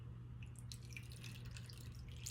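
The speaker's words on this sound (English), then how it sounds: "I'm going to pour this in this ice cube maker" Vegetable stock is poured into an ice cube maker, giving faint, quick drips and small trickles close by against a quiet background, with no talking.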